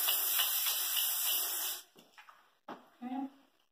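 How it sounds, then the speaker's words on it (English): Coconut oil cooking spray hisses onto foil in one continuous burst of about two seconds, followed by faint handling clicks and a brief voice. "spray on some coconut oil for the non-stick cooking spray"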